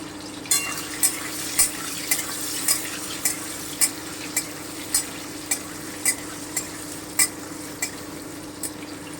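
Paneer frying in a kadai with a little salt for capsicum paneer: a steady sizzle under a quick, even rhythm of spatula scrapes and clicks against the pan, close up, with no talking.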